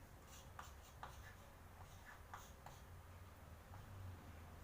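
Marker or chalk writing on a classroom board during a narrative-text lesson, a series of short scratchy strokes with brief pauses, fairly faint against room hum.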